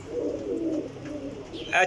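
Sialkoti male pigeons with pearl-like markings coo in a low, rolling murmur held close for most of the moment, ending in a sharp higher sound.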